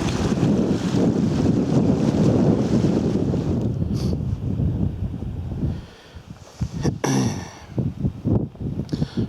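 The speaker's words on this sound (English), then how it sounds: "This running water." Running water at the source of a mountain stream high in the Cairngorms rushes steadily in the open air, buffeted by wind across the microphone, before the flow quiets and a few brief knocks and rustles follow.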